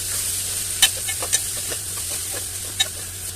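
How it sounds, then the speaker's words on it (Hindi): Keema filling with chopped mild green chillies sizzles in a pan under a steady hiss, a few crisp scrapes and taps of a spoon mixing it at close range, no talk. "और अब हम इन्हें अच्छे तरीके से मिक्स कर लेंगे।"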